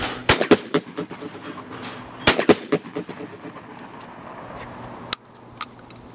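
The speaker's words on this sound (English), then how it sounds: "I can get from shot to shot pretty quick, but this shotgun's not nearly as accurate as your shotgun" Shotgun blasts fire in quick succession outdoors at a clay shoot, several sharp loud reports close together with another single shot later and echoing tails between them.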